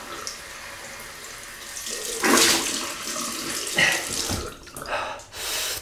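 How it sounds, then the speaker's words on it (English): Cold water runs from a tap for a rinse during a wet shave, a hissing splash that swells and breaks into bursts as the flow is interrupted, close and fairly loud, with no talk. "Cold water rinse."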